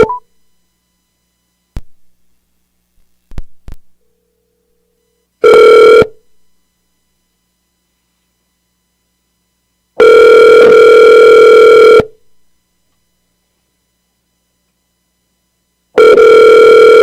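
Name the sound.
telephone ringing on a call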